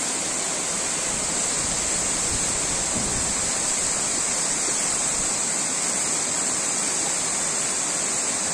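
The largest waterfall in the upper Uch-Kosh gorge roaring nearby: a loud, constant, dense rush of falling water with no break, no voices over it.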